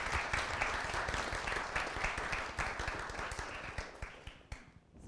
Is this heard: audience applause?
yes